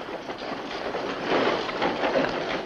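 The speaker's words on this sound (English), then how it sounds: "I take the train to Bismarck there." A passenger train rumbles along its rails with a steady rolling roar and faint rhythmic clatter, heard from inside a carriage on a line to Bismarck.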